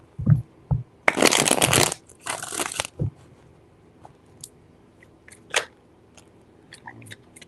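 Tarot cards shuffled by hand in two quick crisp riffling bursts, the first about a second long and the second shorter, followed by a few soft taps and rustles in near silence.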